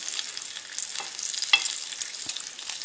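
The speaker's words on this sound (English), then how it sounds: "I am done cooking my bacon here" Bacon frying in a pan, a steady high hiss of sizzling fat with a few sharp pops and crackles rising above it, close and continuous with no voices.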